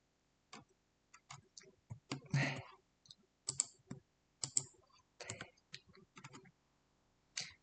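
Sharp clicks from a computer during chip-design work, scattered irregularly in single taps and small bursts, close and fairly quiet, with no talk.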